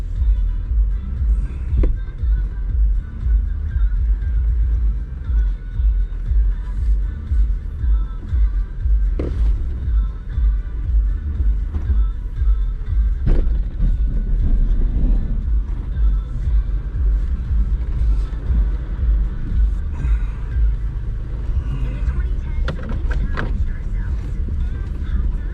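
Jeep crawling slowly down a steep slickrock hill on the Hell's Revenge and Poison Spider trails at Moab, a steady low engine rumble with occasional scrapes and knocks, close and continuous throughout.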